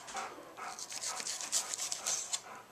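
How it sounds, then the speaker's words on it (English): A Rottweiler and a Jack Russell pant close by, quick rhythmic breathy puffs with a faint whimper mixed in, fairly quiet and alone. "I got a Rottweiler and a Jack Russell, so you're going to probably be hearing them."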